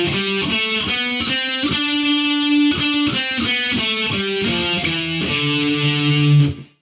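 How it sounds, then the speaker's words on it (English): The D Dorian scale is played note by note on a distorted heavy metal electric guitar, in a steady rhythm of evenly spaced picked notes, loud and up close, ending on a held final note. "Let's take a look at the Dorian scale, specifically the D Dorian scale."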